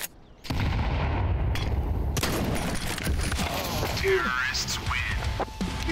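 Counter-Strike 2 grenade blast and gunfire: a sharp burst opens a dense, sustained rumble of shots and crackling, with a voice speaking over the din.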